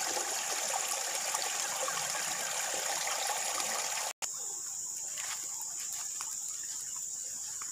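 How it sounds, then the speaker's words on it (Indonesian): A clear forest river stream flowing steadily, a constant close rush of water with faint insect and bird sounds, briefly cut off midway before resuming. "Ini adalah sungai air yang jernih, tempat kita mengambil air bersih."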